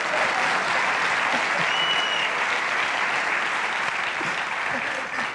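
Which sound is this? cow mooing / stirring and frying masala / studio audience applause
studio audience applause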